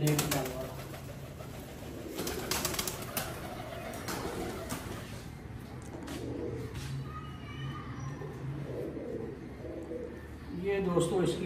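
Teddy pigeons coo in soft, low, repeated phrases close by, heard through someone talking over them along with light bird rustling.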